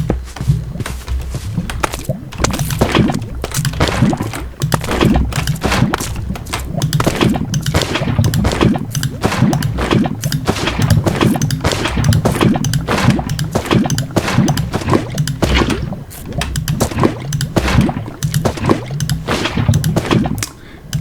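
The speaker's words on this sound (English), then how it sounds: "Lava glooping ASMR" Lava glooping in Minecraft with the FTB Academy modpack: a loud, dense run of bubbling pops and gurgles that keeps going steadily without a break.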